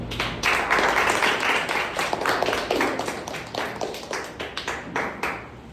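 Audience at a Toastmasters meeting clapping for speakers, dense sustained applause from many hands, close and loud, thinning into separate claps toward the end.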